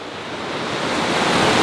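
River water rushes steadily where the Birkenhead River and Owl Creek join, a broad close wash of noise that grows slightly louder, with no voices.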